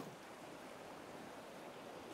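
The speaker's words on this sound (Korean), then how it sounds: "아 파도 소리." Ocean waves wash onto a shore on a fine day, a steady broadband rush with some wind noise across the mic, continuous and fairly close, with no one talking.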